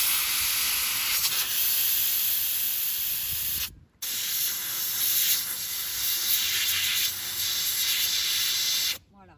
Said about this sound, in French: Donc j'envoie la vapeur dans ma ventilation.